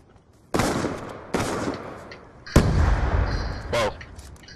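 Loud gunfire from a firearm in the video game Call of Duty: Black Ops 2 rings out as three heavy, booming shots spaced about a second apart, the last one reverberating longest, followed by a brief metallic sound.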